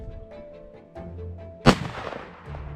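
A single loud, sharp rifle shot fired at a buffalo during a hunt, a sudden close blast with a long decaying tail rising out of quiet outdoor background.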